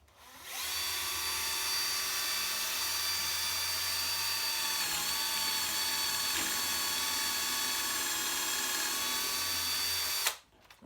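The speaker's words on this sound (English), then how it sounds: "So now what we need to do is drill the hole through here, hopefully through the other board" A drill bores steadily through wooden poker table boards, a close, continuous whine lasting about ten seconds before cutting off abruptly.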